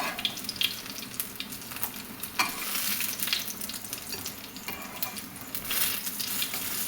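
Onions sauté in a pan, giving a steady close sizzle with scraping stir strokes running through all seven seconds, with no talking.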